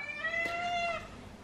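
House cat meowing nearby, one clear drawn-out meow with a shorter second call at its tail, moderately loud and alone.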